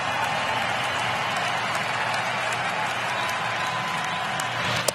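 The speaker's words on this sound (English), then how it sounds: "Crowd trying to help out their young pitcher." A packed baseball stadium crowd at an NLCS playoff game cheers on their young pitcher with the bases loaded and two strikes, a dense, loud, sustained roar of voices and clapping that never drops.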